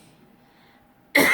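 A single loud, harsh cough from someone with a lingering cough bursts out abruptly after near silence and is cut off at the very end.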